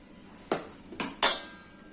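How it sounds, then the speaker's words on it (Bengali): Chopped onions go into a metal bowl holding mutton, producing three quick metallic clanks and clinks, close and distinct, against a quiet background. "এই যে কেটে রাখা পেঁয়াজ দিয়ে দিলাম"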